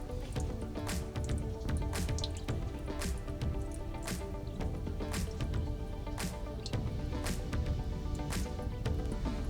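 Water pours and splashes into the fresh-water tank of a 2022 Coleman 17B travel trailer, a steady close gurgling flow with regular dripping splats throughout.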